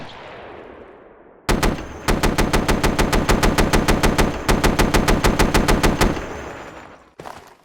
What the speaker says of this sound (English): USMC artillery begins to bombard the Volts base from the new northern front